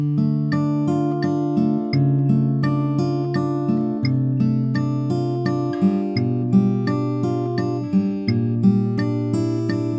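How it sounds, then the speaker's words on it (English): Acoustic guitar fingerpicks the studio-version intro of a song, a continuous rolling arpeggio of plucked notes over sustained bass strings, steady and close with no voices. "that's the studio version of the intro for guitar number 1"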